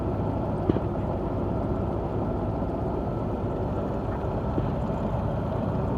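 A 1993 Range Rover Classic long-wheelbase with its 4.2 engine running, giving a steady, even low rumble that holds level throughout, with no talk over it.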